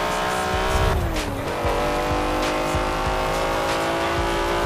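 A race car in the video game Forza Horizon 4 roars at sustained high revs, with a pitch drop partway through and tires squealing and skidding, loud and continuous with no talk.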